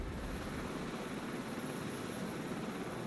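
Rescue helicopter hovering during a high line winch extraction, a loud, continuous rotor and engine roar that stays steady and dense throughout.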